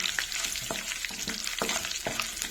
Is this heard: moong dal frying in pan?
yes